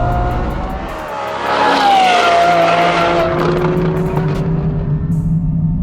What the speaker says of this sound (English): It's always a good day when you get to hear one of our exhausts